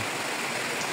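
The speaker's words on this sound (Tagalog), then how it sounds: "Super lakas ng ulan." Heavy downpour at a house in Davao, a dense, steady roar of rain hissing across everything with no break, loud and close for about a second.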